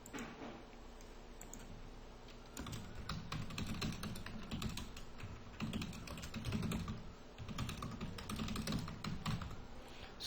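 Steady typing on a computer keyboard, soft rapid key clicks running continuously at a quiet level with no voices.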